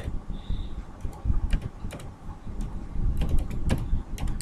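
Typing on a computer keyboard: rapid, uneven clusters of crisp key clicks close by, with brief pauses between bursts and no voices.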